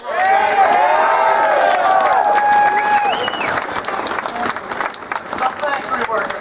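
Loud applause and cheering from a crowd at a Michigan gun rally, with high whoops and shouts over dense clapping that continues throughout before easing slightly toward the end.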